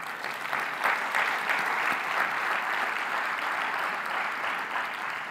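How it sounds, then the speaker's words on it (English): A large audience at an awards ceremony claps steadily, a dense, even wash of applause held for several seconds with no voices over it. "let us give them a big, big round of applause to all of them."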